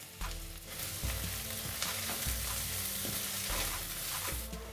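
Chopped onion and a pinch of asafoetida sizzle in a pan over very low heat, a dense crackling hiss with repeated scraping thumps as a spoon stirs, and no voices.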